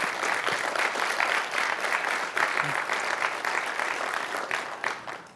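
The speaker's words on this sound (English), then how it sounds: "let's give Lakeview High School and all of San Angelo ISD a big round of applause for hosting this tonight" Sustained applause from a school audience at an evening service academy event hosted by a high school, steady dense clapping filling the room for several seconds without a break.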